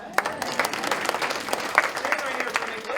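An audience at a Christmas show claps for a volunteer from the crowd, lively uneven applause with distinct sharp claps over background voices.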